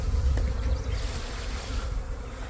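A swarm of honeybees buzzes steadily and densely throughout, a close, continuous insect drone with no talking.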